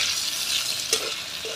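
Spices and chili powder being sautéed in a pan for a fish curry, a steady broadband sizzle with a couple of brief scraping stirs, close and continuous with no talk.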